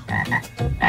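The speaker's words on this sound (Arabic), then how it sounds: "أو لا، ضفدع" Frog croaking loudly and close, a few rough rasping croaks in quick succession with brief gaps, heard on its own without talk.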